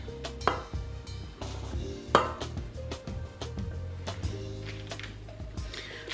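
Pound cake batter with flour added turned slowly in a stand mixer at low speed, heard as a close, steady churning and low whir with irregular soft thumps and a few sharp clinks.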